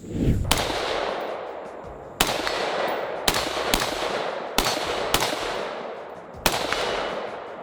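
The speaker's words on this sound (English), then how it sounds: "let's take a couple of shots with these and see how they do" Gunshots from a shooting range, fired down range as seven sharp, loud reports at irregular intervals, each followed by a long echoing decay across open ground.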